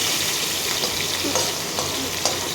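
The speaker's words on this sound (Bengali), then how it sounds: "এপাশে নোনা মাছগুলোও ভাজা হচ্ছে।" Salted fish fries in a pan beside a mutton dish, a loud continuous sizzle of hot oil with a few small pops and spatters, close up and with no talk.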